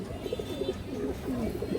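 Pigeons coo close by, including a large, restless black-necked female, a series of soft throaty coos rising and falling over about two seconds.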